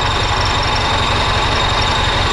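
A tractor engine running steadily and loud, close by, with a rapid low throbbing pulse as first gear is engaged during hay stacking in a field.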